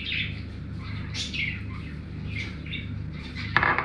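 Pet birds kept indoors chirp and squawk in a lively, overlapping chatter, close by and fairly loud, with a sharper squawk near the end.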